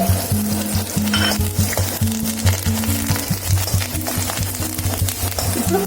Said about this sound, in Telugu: ఇప్పుడు కొబ్బరి వేసుకొని కొద్దిగా నెయ్యి వేసుకున్నాం.